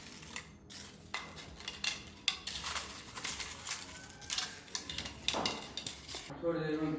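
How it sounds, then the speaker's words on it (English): Tortilla chips rustle and clink onto a plate in a child's no-cook nacho recipe, a run of small crunchy taps and dish clatter close by with no talking. "First, I am placing some nachos on my plate."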